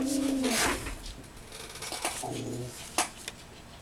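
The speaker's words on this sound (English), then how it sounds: "I was trying to get my dog to not bark." A dog barks and whimpers briefly near the start, followed by quieter yelps and faint rustling, close by and short.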